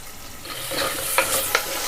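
Onions fry with salt in a pan for a traditional urad dal gasi, a close, steady sizzle with a couple of brief stirring scrapes.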